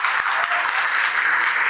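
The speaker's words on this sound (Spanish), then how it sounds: "Vamos a darle un aplauso a nuestros pastores" A Spanish-speaking church congregation applauds its pastors during a Sunday service: steady, bright, many-handed clapping filling the room, sustained throughout the short burst with a few louder thumps.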